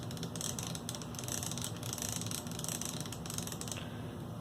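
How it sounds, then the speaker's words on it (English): A Lego Technic crank winding string onto a winch, the ratchet clicking in a quick, continuous rattle of small plastic mechanism noise, close and alone. "Then we can re-engage the ratchet and use the crank to"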